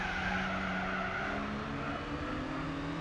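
Car tires skid and squeal through an oversteer slide in the racing game Gran Turismo 4, a steady loud screech over a droning engine that lasts throughout with no pauses.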